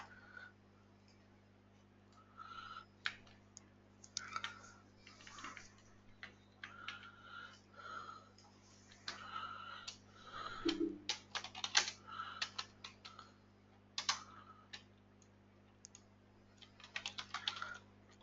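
Computer keyboard typing in bursts of quick, close key clicks separated by pauses, over a quiet steady hum.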